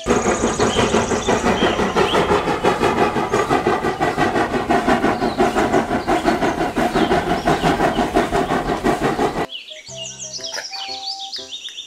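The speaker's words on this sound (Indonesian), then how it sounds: "Kereta Thomas" A Thomas toy train rattles and clacks steadily along its track with a rhythmic chugging, then gives way to brief electronic chirps and tones.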